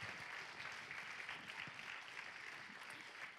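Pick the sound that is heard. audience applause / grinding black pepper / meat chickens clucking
audience applause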